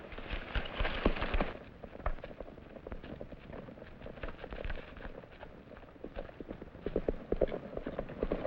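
Trigger the horse in a 1944 western film: steady clip-clopping hooves at a walking pace, moderately close, rain-like patter beneath and brief talk in places.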